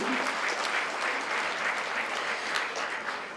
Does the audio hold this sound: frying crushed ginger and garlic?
no